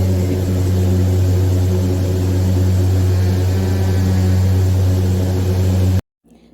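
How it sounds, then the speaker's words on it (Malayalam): Steady, loud engine drone fills the cabin of a very small passenger plane, roughly fifteen-seat size, in flight, holding an even hum throughout before cutting off abruptly near the end. "ഇത് ഭയങ്കര കുഞ്ഞു ഫ്ലൈറ്റായിരുന്നു"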